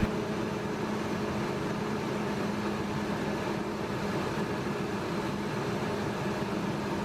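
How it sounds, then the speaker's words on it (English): Ford F150 with a 5.4L engine, its AC compressor running as a steady mechanical hum with a broadband whir, constant and moderately loud throughout with no talking. "And there goes our compressor."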